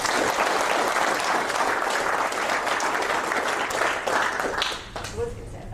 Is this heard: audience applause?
yes